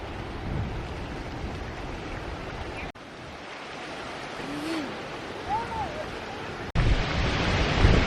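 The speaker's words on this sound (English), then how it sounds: "Very windy today, guys. Isn't it windy?" Strong wind blows across the microphone in an open country park, a continuous rough roar with sudden gusts and abrupt cuts, with faint bird calls in the background.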